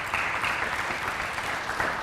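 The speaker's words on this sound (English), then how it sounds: "so round of applause for that." A high school graduation ceremony crowd claps steadily for the class of 2018's scholarship awards, a dense, even wash of applause lasting the whole stretch without pause.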